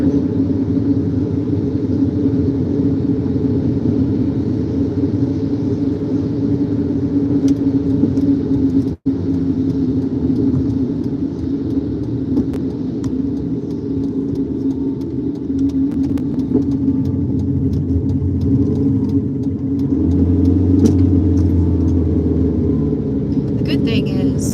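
A car driving along a road during a live storm-chasing drive, giving a steady low engine rumble and road noise that runs unbroken throughout, close and fairly loud, with one brief sharp knock partway through.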